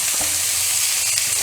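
Green chillies, cut lengthwise, fry in a pan of chicken curry with a loud, continuous hiss and sizzle, close up, with no talking.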